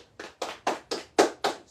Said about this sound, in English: clap it up for the ladies